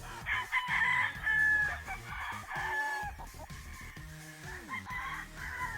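Several sweater gamefowl roosters crow close by in repeated, overlapping bursts. Some of the calls are loud and stretched out, and others are shorter, over a low farmyard background.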